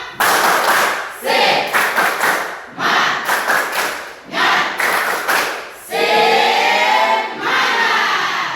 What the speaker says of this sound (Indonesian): satu kali lagi kita tepuk semangat